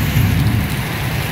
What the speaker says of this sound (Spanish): Así es como va la lluvia allá, miren. Toda la correntada de agua, está bastante fuerte el agua, la lluvia.